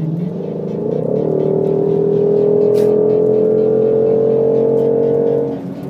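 A Ford Mustang Shelby GT500 muscle car engine revs up and holds a loud, rising, sustained roar close by for several seconds before dropping off, with no talk over it.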